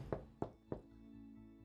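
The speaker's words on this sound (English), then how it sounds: "Why is she still knocking?" Three sharp knocks land on a bedroom door at an even pace, followed by softer, quieter thuds, all close and with nothing else over them.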